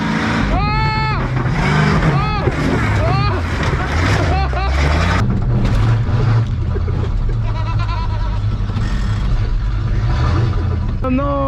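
A monster truck rumbles loudly and continuously as it drives over a car, probably a Dacia, its deep engine drone running throughout while excited voices talk and shout over it.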